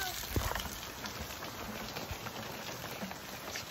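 Rain falling steadily outdoors on land being watered, a dense continuous hiss of drops close by, moderately loud and unbroken throughout, with no voices.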